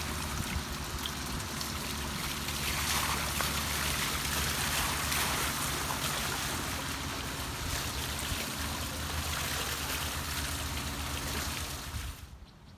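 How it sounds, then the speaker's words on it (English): A water wheel turns in a park, giving a steady, close rush of splashing and trickling water that continues without a break and then drops off at the very end. "The water wheel."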